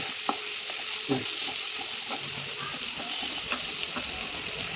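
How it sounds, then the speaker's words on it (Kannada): Garlic frying slowly in a pan for chicken butter masala, a continuous gentle sizzle with faint scrapes and taps from stirring. "ಬೆಳ್ಳುಳ್ಳಿ ಹಾಕೊಂಡು ಸ್ವಲ್ಪ ಹಿಂಗೆ ಫ್ರೈ ಮಾಡಬೇಕು ನಿಧಾನವಾಗಿ"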